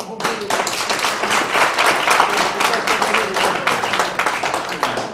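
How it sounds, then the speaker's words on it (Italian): A room of people at a workshop claps in brisk, dense applause that holds steady for several seconds, loud and close. "Comunque un applauso."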